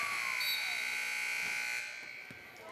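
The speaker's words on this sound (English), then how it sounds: "There is the buzzer." Arena buzzer sounding to end the first half of a women's college basketball game, a loud sustained electronic drone lasting nearly two seconds over crowd noise before fading into the hall's murmur.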